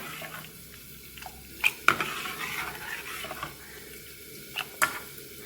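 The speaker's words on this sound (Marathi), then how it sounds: "ह्याला छानपैकी असं हलवून घेऊया" A spoon stirs a tomato soup mixture seasoned with sugar, salt, black pepper and red chili powder, giving soft wet swishing with a few sharp clinks against the pot, close and unaccompanied by voices.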